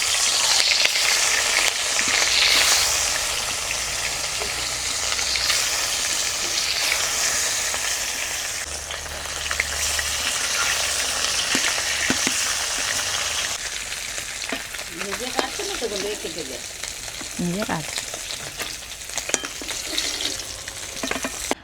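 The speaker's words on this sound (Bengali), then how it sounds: "দিয়ে দিব সরষের তেল। মাছগুলোকে 2 পিঠ লাল করে ভেজে নিই।" Pieces of a large catla fish fry in mustard oil with a dense, continuous sizzle and crackle, close and steady throughout, with occasional clinks of a utensil stirring and turning the fish.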